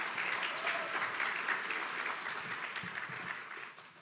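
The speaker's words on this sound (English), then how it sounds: "Let's give another big round of applause to Ahmad and Maria." Steady applause from a crowd at a school ribbon cutting, dense clapping that holds at an even level throughout and tapers slightly toward the end.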